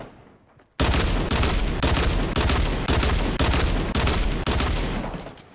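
In a video game, about eight rapid bursts of automatic gunfire crack out in quick succession after a brief quiet start, loud and close, with short gaps between volleys.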